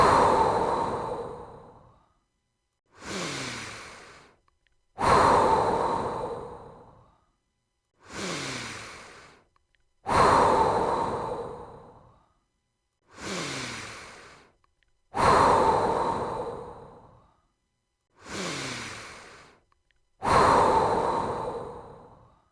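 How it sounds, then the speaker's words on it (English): Slow, deep breaths in and out repeat in an even rhythm, each a long airy exhale followed by a short pause, close and clear with no talking, as in a guided relaxation exercise. "Take a moment to breathe in and breathe out."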